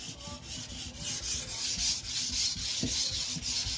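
A Victorinox knife blade is stroked across a sharpening stone in a steady back-and-forth rhythm of gritty, close scraping rubs, about a dozen passes with no talking.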